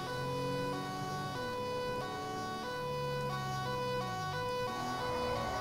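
Ambulance siren in the GTA 5 video game, a wailing tone that sweeps up and down through repeated cycles, steady and moderately close, with no talk over it.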